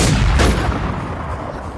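Loud gunfire in a PVP shooter video game, a sharp burst of shots at the start followed by a decaying boom.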